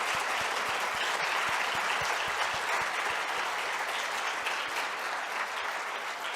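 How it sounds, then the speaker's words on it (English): A conference audience applauds with dense, sustained clapping that holds steady for several seconds, with no voices over it. "I think they have deserved an applause."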